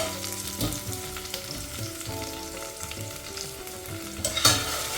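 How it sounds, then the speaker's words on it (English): Onion sizzles in a pan for a Fiji-style tadka dhal while a spatula stirs it, producing a steady close frying hiss broken by repeated scraping strokes and a sharper clatter near the end. "So we want to keep stirring the onion so that it evenly cooks."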